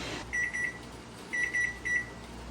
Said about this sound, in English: That was the timer for the potatoes